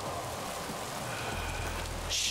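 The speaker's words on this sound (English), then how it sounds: "It's raining." Rain in the video game Horizon Forbidden West, a steady hiss of falling drops with a low rumble underneath and a brighter splash near the end, with no talk over it.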